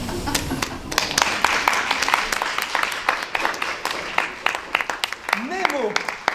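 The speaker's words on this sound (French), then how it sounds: "On peut l'applaudir plus fort que ça." An audience at a French magic conference-show applauds after an illusion: a dense patter of many hands clapping at moderate distance, with a voice talking over it.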